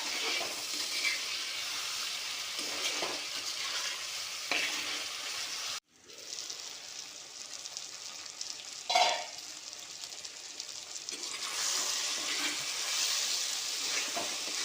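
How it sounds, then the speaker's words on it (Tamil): Raw plantain, jackfruit seeds and brinjal sauté in a pan with a bright steady sizzle broken by stirring scrapes, a brief hush partway through, then the hiss returns strongly. "வாழைக்காய் பலாக்கொட்டை கத்திரிக்காங்க சேர்த்து நல்லா வதக்கிக்கலாம்"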